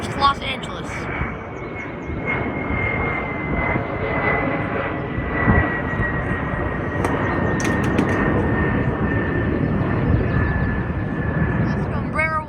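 An airliner, an Alaska Embraer 175, passing at San Diego airport: a steady, close jet engine roar with a sustained whine running throughout, while a voice speaks over it.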